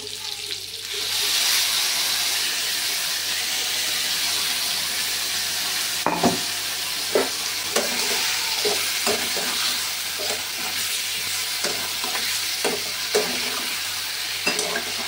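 New flat beans frying lightly with spices in a pan, a steady low sizzle running throughout with occasional sharp stirring clatters from about the middle onward; no talking.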